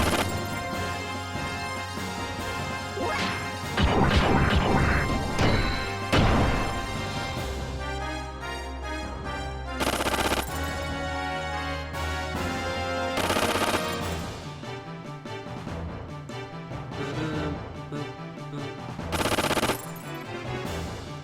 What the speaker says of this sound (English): It's a Bahamut gun.